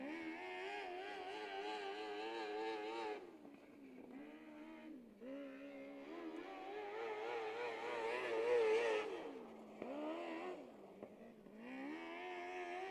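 A micro sprint car runs a hot lap on a dirt track at the Hoosier Dirt Cup. Its engine howls loud and close, rising and falling in pitch as it accelerates, backs off and roars again.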